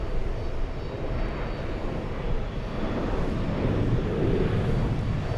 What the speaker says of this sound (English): 404 flying in from Frankfurt. That's an A340-300.